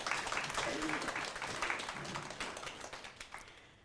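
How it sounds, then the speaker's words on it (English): Audience applause at a keynote event, sustained broadband clapping that gradually fades over a few seconds, with some voice-like content mixed in. "Give her a big round of applause, Naz."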